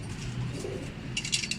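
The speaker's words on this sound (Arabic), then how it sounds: "شوف الطير شلون ماخذ راحته" Pigeons in a breeding loft cooing, low soft throaty coos close by, with a brief burst of chirps and light wing or movement sounds near the end, no talking.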